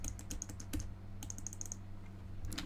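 Bursts of close, crisp key presses on a computer keyboard at a desk, a quick run of clicks, a pause, then another run, over a steady low hum.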